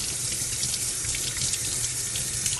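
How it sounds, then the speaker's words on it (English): Tap water runs steadily over a piece of hard, stale bread at a kitchen sink, a close continuous hiss and splash with no talking. "run it over water a little bit"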